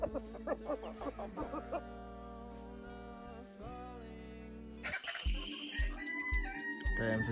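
Chickens come out of a coop on a homestead in the morning, clucking and crowing close by in a busy, overlapping chorus with a rooster's long crow standing out.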